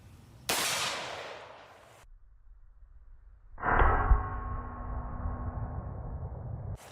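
An AR rifle fires 5.56 green tip rounds at a full oxygen tank from far back on a hill: one sharp report with a decaying tail, silence, then a metallic ringing burst that lingers.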